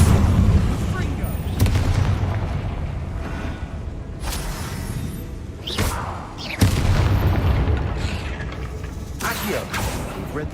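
Confringo spell blasts in the Hogwarts Legacy video game land as several heavy, booming explosions with rumbling tails, loud and close, mixed with game effects and shouted spell calls.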